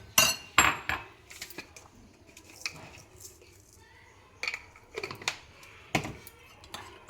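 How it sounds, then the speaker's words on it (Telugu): Curd mixed with salt is beaten in a bowl with a spoon, giving bursts of quick clinking taps against the dish separated by short pauses, close and fairly quiet. "ఈలోగా బౌల్లో ఈ కర్రట్ తీసుకొని కొద్దిగా బీట్ చేసుకోవాలి."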